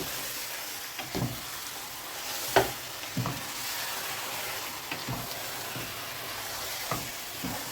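Chicken stirred in a large pot while cooking kabsa: a steady low sizzle broken by a few scattered scrapes and knocks of the spoon, close and fairly quiet.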